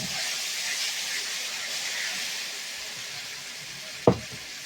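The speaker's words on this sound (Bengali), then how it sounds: "এবার আমি একটুখানি কষিয়ে নিচ্ছি" Ginger, onion, garlic, chilli and tomato spice paste sautéing in a pan, a soft continuous sizzle with a single sharp clack of a utensil near the end.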